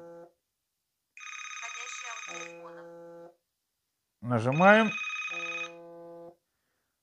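WhatsApp call ringing on a Galaxy Watch 4, two bursts of repeating electronic ringtone tones separated by silence, with a rising swooping chime between them; a person speaks briefly at the start.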